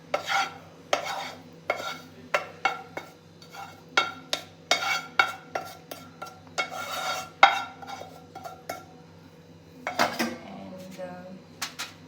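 Mashed potatoes and cooked vegetables are mixed in a big bowl: a spoon clatters and scrapes against the bowl in a rapid, irregular series of close knocks and scrapes, with a brief pause and more clinks near the end.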